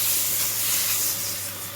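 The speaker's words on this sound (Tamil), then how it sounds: "புளித்தண்ணி போட்டு இந்த புளித்தண்ணி ஊற்றிக்கலாம்." Tamarind water poured into a hot pan of brinjal curry, a sudden loud steamy hiss and spray that stays strong, then tapers slightly over under two seconds, heard up close without talk.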